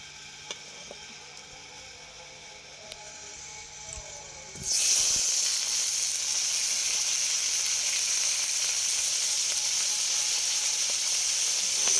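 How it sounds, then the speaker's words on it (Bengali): Potatoes and pointed gourd fry in hot oil with salt and turmeric, bursting into a loud, steady sizzle partway through after a quieter start, then hissing evenly and close without any talk. "আলু পটলগুলো তেল লবণ আর হলুদ দিয়ে একটু ভাজা করছিলাম।"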